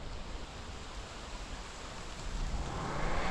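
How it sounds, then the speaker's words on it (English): Heavy rain pours down outdoors at Jackson Creek on a bikepacking trip along the Oregon Timber Trail, a steady, dense hiss of falling water that swells louder toward the end, with no voices. "It just started pouring rain."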